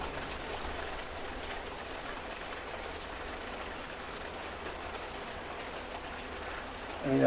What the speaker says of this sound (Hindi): मौसम इस वक्त बारिश का मौसम है